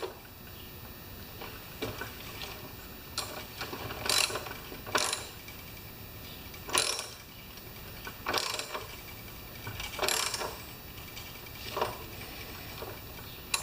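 Ratchet wrench turning a thread tap in the stripped spark plug hole of a Lawn Boy mower engine, with close, clicking bursts of pawl ticks repeating at irregular intervals over a quiet background.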